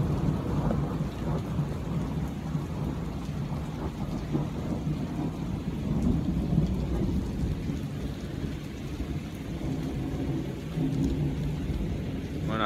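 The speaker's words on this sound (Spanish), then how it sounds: "No se aprecia, pero está lloviendo fuerte." Heavy rain pours down in a dense, continuous hiss, while deep thunder rumbles and rolls through it for the whole stretch.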